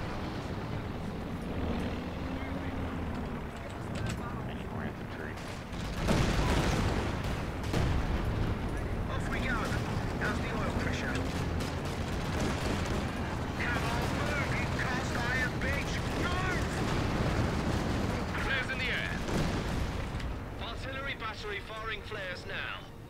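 Artillery and howitzer fire in the World War II strategy game Company of Heroes 2, heavy booming shots and explosions rumbling through a dense battle soundscape, with a voice talking over much of it.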